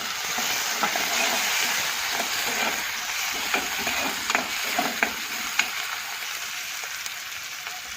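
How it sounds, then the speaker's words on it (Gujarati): Onions fry in a pan as tomatoes go in, a steady loud sizzling hiss with scattered pops and crackles and faint stirring scrapes throughout, close and continuous, with no talking. "પહેલાં સરસ મસ્ત ડુંગળી આપણે શેકી કાઢીએ, પછી ટમાટર ને મસાલો. ટમાટર નાખી દઈએ."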